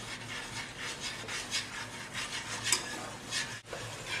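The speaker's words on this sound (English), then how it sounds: "To this I'm going to add about a 1/4 cup of flour, and we're going to stir it in here." Flour being stirred into hot oil in a pan to start a roux for turkey gravy, a soft continuous rubbing scrape of the spoon against the pan with gentle rhythmic strokes, close and quiet.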